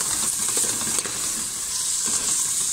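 Chicken frying in oil with black pepper is stirred in a pan, giving a steady close sizzle with faint scraping strokes of the utensil throughout.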